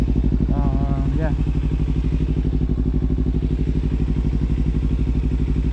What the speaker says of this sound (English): I'm gonna ride home now